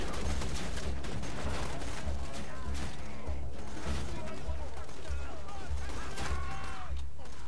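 Dense, continuous gunfire and chaotic combat noise from the Borderlands 2 video game during a co-op firefight, steady and loud throughout with busy crackling shots and no clear pauses.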